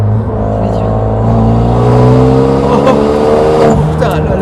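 Renault Megane 3 RS heard from inside the cabin on the road, a loud engine drone rising in pitch as it accelerates, with voices talking over it.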